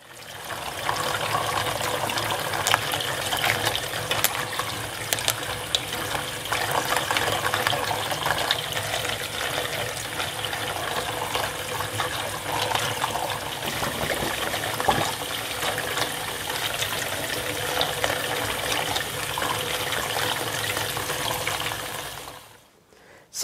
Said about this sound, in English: So I put those in and turned on the water jet.